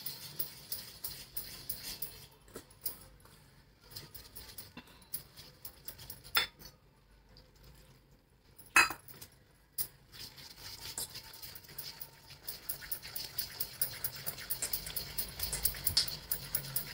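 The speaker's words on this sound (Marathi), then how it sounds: "याच्यामध्ये टाकून घेते आणि चांगलं असं मिक्स करून फेटून घ्यायचं चांगलं।" Besan and milk batter being whisked in a bowl, quick rhythmic tapping and scraping strokes, sparse and faint at first, then speeding into a dense, steady clatter near the end, close up.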